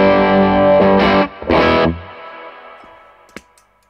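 Electric guitar through a Fuzzrocious Feed Me pedal set like a tube screamer ahead of a Klon overdrive, a few loud distorted chord strums that ring out and fade, with faint string noise at the end.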